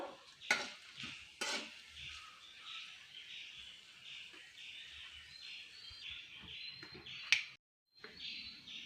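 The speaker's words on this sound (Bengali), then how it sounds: "আমি এই তেলটাতেই সরষেটা দিয়ে দিচ্ছি, লঙ্কাগুলোও দিয়ে দিচ্ছি।" Mustard seeds and chillies sizzle steadily in hot oil for a tamarind chutney, with a few sharp clinks of a utensil and a brief pause near the end.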